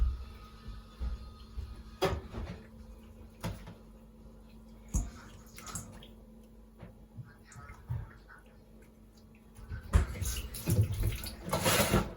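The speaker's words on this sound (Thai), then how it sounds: "มาล้างอีก เอาเกลือล้างคาวนิดนึงนะ" Fish is washed with salt under running water in a sink to remove its fishy smell while Thai fermented pickled fish is being made. Moderate splashing and trickling is broken by several sharper knocks and a busier stretch of water near the end.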